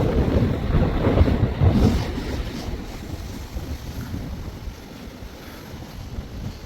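Fishermen's boat out on a cold, windy sea near a coastal fort, with steady rushing wind buffeting the microphone and a broad wash of waves, loudest early and easing slightly, no voices.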